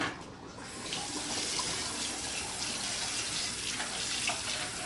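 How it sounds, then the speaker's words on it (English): Hot water pours out of a pot of boiled eggs into a sink, a steady splashing gush running for several seconds at moderate volume, no talking. "We dump out the hot water."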